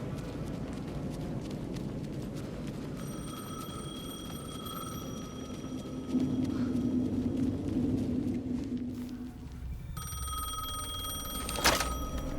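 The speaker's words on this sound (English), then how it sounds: "The phone again." A telephone rings repeatedly in the video game Alan Wake 2, steady bright bell tones from about three seconds on, over a low droning ambient bed, with a sharp clatter near the end.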